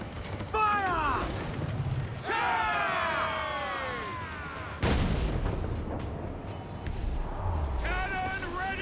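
Ship cannons firing in Assassin's Creed IV Black Flag, deep booms at intervals amid voices of the crew shouting, with a heavy blast near the middle of the naval battle.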